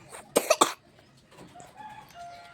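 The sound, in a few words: coughing from a bad cold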